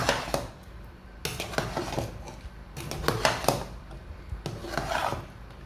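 Spoon scraping and rubbing around a pot of okra draw soup, close and moderately loud in several bursts of stirring separated by short pauses.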